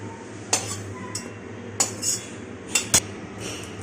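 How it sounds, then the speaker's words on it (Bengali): A metal spatula clinks and scrapes against a wok as fried jackfruit pieces are lifted out, giving a handful of sharp, separate taps over a quiet kitchen background. "এঁচড়গুলোকে লাল লাল করে ভেজে আমরা এইভাবে তুলে নিচ্ছি।"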